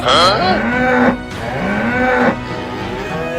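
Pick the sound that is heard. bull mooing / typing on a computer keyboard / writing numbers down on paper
bull mooing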